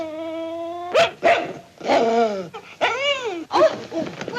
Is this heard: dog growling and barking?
yes